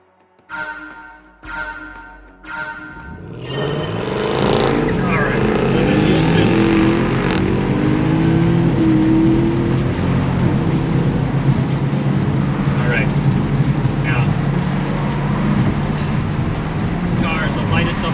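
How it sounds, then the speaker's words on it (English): A 2023 Mercedes-AMG C43 runs a slalom course: after a few short beeps the engine rises into a sustained loud drone with shifting pitch through the turns, speech over it. "let's see how it does in the slalom here"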